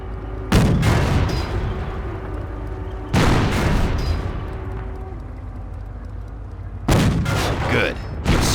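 Three heavy tank-gun impacts strike the rear armor of a Panzer in the Company of Heroes game, each a loud booming blast with a rumbling tail, spaced a few seconds apart.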